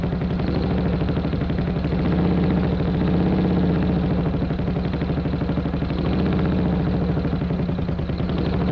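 A 1950s British Army motorcycle engine runs steadily at a medium pace, a close, loud, even mechanical drone with a faint clattering pulse throughout.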